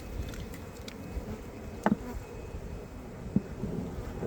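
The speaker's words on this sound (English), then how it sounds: "Let me shake those bees off into the hive." Honey bees from a weak colony are shaken off a frame into the hive. A faint, continuous buzz of the swarm is broken by a couple of soft thumps and knocks, with no talking.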